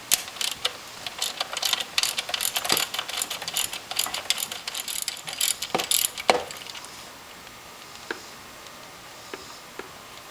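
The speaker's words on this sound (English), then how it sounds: "I am using a 10 millimeter wrench to get this off." A 10 mm wrench ratcheting as it removes a part on a Jeep 4.7L engine, rapid clicking strokes in bursts that slow to a few isolated ticks, close up without talking.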